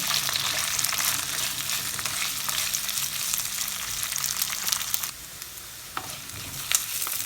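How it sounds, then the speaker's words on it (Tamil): Onions fry in hot oil with green chilies and curry leaves for a crab curry, a dense, steady close sizzle that eases slightly after a few seconds, with occasional stirring taps. "இதுக்குள்ள வெங்காயத்தை போடுறேன்."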